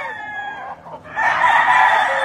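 A fighting cock from a breeding yard crows nearby, a strong sustained call that swells loudly in its second half over faint background noise.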